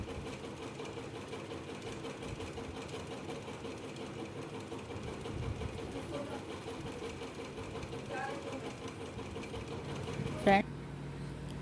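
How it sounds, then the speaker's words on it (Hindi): A sewing machine stitching elastic onto a salwar hums and whirs steadily and closely the whole time, with a voice speaking over it and a brief clack near the end. "कुछ इस तरह से हमें लास्टिक को सिल देना है। इसकी स्टिचिंग लगा कर"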